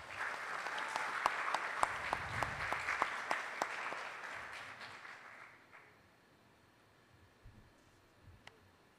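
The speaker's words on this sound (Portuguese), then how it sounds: "a Lúcia, professora Lúcia Pessoa, pedimos também uma salva de palmas." Audience applause at a ceremony honouring Aldo Parisot in Rio Grande do Norte, a burst of many hands clapping with a few sharp loud claps, fading out over the last few seconds into near quiet.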